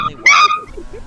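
A dog gives one sharp, loud yip followed by softer whimpering whines, close by, in a short burst amid a noisy street scene.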